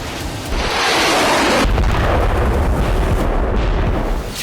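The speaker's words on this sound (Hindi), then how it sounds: "रूसी जेट से इस बम को गिराने के बाद जोरदार धमाका हुआ।" A huge, sustained roaring blast of broadband noise with deep rumbling low end from a bomb dropped by a Russian jet on central Kharkiv, loud and continuous for several seconds before tailing off.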